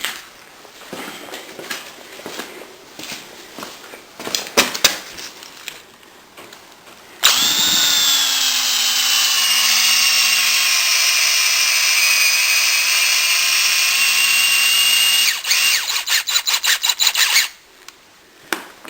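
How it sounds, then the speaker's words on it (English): An impact drill drives a 1/4 inch lug all the way into wood, with short rattling bursts first, then a loud sustained whine of about eight seconds, and a few more short bursts after it. "using an impact drill to sink them all the way through"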